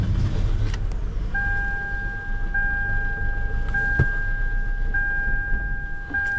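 A 2011 Toyota Camry engine that is running rich with a suspected faulty mass airflow sensor idles with a steady low rumble, while a repeating electronic warning chime sounds over it.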